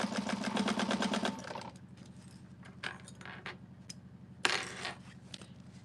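Sewing machine fitted with a skinny presser foot, stitching in a quick buzzing burst at the start, then lighter clicks and handling noises, with a low steady hum underneath.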